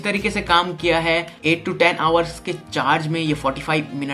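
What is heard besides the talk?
No everyday noise stands out behind the speech.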